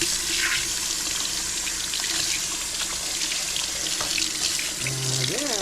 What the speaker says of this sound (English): And I wash my scallion.